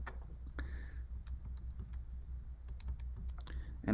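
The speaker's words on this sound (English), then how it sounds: "And I'm typing in all of those Y's." Rapid, irregular clicks of calculator keys being pressed one after another, close up, over a low steady background hum.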